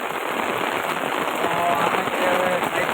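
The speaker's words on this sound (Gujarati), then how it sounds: "જોરદાર વરસાદ હતો" A downpour in Rajula drums hard and unbroken on surfaces nearby, a thick roaring wash of rain that stays loud throughout.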